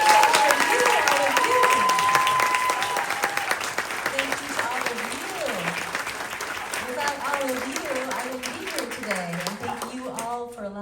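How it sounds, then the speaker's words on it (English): Large audience at a lunch event with a Disney performer breaking into sustained applause and cheering, loud at first and gradually fading while voices talk over the tail end. "Let's have a huge round of applause for Jodi."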